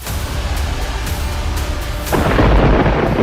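A Karnataka thunderstorm in Koppal district rumbles steadily with thunder, then a loud burst of heavy rain and hail roars in partway through, close and dense.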